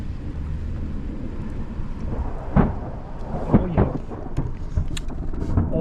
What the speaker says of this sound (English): Oh, there's a lightning strike.